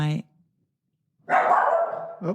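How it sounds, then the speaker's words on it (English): Dogs bark nearby in two bursts, a short sharp bark at the start and a longer, louder volley after a second of silence, followed by another yelp at the end. "there go the dogs"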